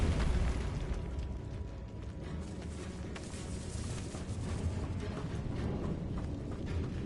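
Bombarda blasting spell going off in the Hogwarts Legacy video game, a dense, sustained explosive rumble with booming low end and crackling bursts, loud and continuous for several seconds with no speech.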